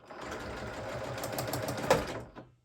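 A sewing machine running a steady back stitch with green thread on a fabric pet sling pouch, loud and close, one continuous whirring run that stops abruptly near the end.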